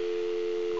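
Steady telephone dial tone heard when getting an outside line, a single continuous clear tone lasting under a second.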